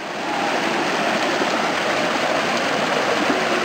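Cold creek water rushing steadily beneath a small bridge on a winter hike during a drought, a continuous broadband wash close by with no voices.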